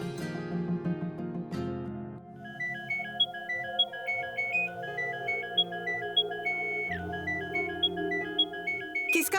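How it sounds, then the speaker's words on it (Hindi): A phone ringtone plays a repeating electronic melody of short bright notes, fairly clear and steady, with a musical backing underneath and no talking. "किसका फोन है"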